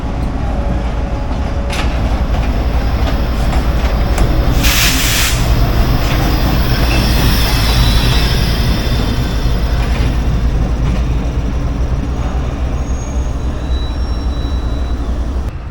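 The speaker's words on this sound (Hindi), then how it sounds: "GU40 9016 की पावर के साथ 45 ऑफ पाकिस्तान एक्सप्रेस लाहौर पहुंच रही है।" A Pakistan Express passenger train with a GU40 locomotive arrives at Lahore station, a loud continuous rumble and rolling rail noise with a brief hiss of air partway through.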